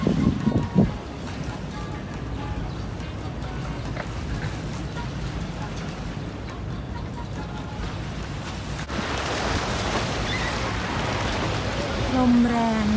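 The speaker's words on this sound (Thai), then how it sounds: "ลมแรง" Strong wind buffets the microphone on a Manhattan street near Times Square at sunset, roaring steadily and swelling louder toward the end, with a brief voice near the start.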